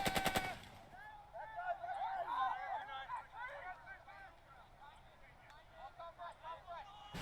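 Enemy machine gun firing in the tactical war game Burden of Command, a burst opening the scene followed by lighter rattling under a busy mix of game sounds and chirping effects.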